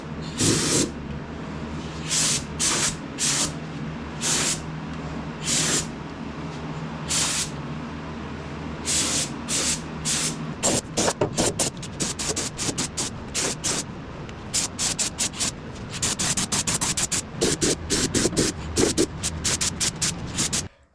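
Chassis paint undercoating is sprayed onto a Datsun 280z, with repeated hissing bursts from the spray can, first spaced apart and then coming in rapid short pulses, loud and close.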